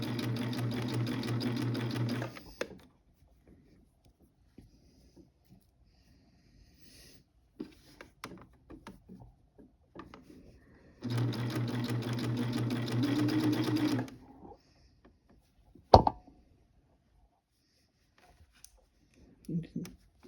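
A cover stitch sewing machine hems the bottom of a white garment in white thread, running in two steady bursts of fast whirring stitching with a quiet pause between, followed by a few soft handling clicks.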